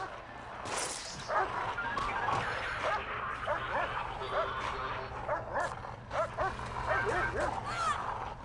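A dog in the Prison Architect game barks, yips and whimpers while it mauls a prisoner, giving short, repeated, moderately loud yelps over steady background noise as someone talks throughout.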